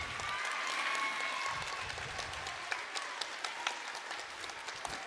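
An audience at an elementary school end-of-year awards ceremony applauds a group of honored students, a sustained wash of clapping with a few sharper nearby claps standing out in the latter half.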